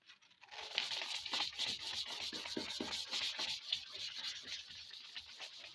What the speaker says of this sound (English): use the 600 grit sandpaper to sand off the lens surface as repetitive as possible